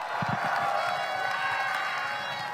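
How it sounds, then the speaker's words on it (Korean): A large outdoor campaign-rally crowd in Siheung, Gyeonggi, applauds and cheers as a former Lotte Giants baseball manager is introduced, a dense, steady wash of clapping and shouting that holds at full strength throughout. "박수 부탁드립니다"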